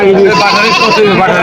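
A goat bleats in a long, wavering cry at a busy goat market at Chewakhali Bazaar in Subarnachar, Noakhali, close and loud over a steady murmur of crowd voices.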